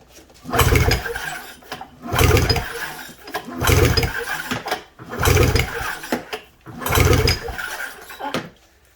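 A snowmobile engine being pull-started repeatedly during a cylinder compression test, five evenly spaced bursts of cranking roughly 1.5 seconds apart, each a churning mechanical whirr that rises and falls, close and fairly loud with no talking.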